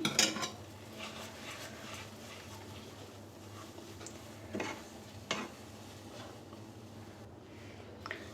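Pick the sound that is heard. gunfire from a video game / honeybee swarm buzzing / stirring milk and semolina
stirring milk and semolina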